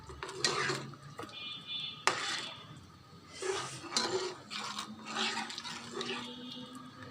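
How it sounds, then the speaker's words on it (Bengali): A spoon stirs chicken Thai soup, tinted with orange food colouring, in a cooking pot, giving repeated close scraping and clinking against the metal over a soft liquid sloshing, with no talking. "এখন অনবরত নাড়তে থাকবো, তলায় যাতে না লেগে যায়।"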